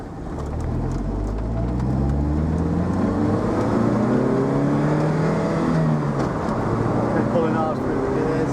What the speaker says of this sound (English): Okay, pulling hard through the gears.